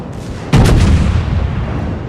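A North Carolina battleship's main guns fire in a ranked World of Warships naval battle, a single heavy booming salvo that erupts suddenly and rumbles away, loud and close.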